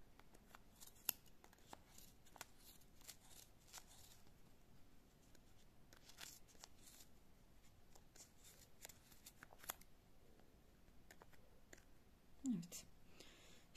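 Scissors snip through yarn while a crocheted pom-pom is made for a scarf, giving quiet, close, sparse clicks and cuts over a soft background rustle.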